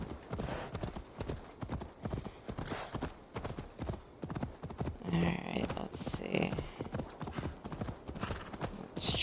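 Horse galloping in the video game Assassin's Creed Valhalla, a fast steady clip-clop of hooves running throughout, with a brief whinny and someone talking over it.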